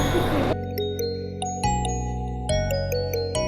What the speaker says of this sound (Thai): จะไปแขวนระฆังก่อนแล้วกันนะคะ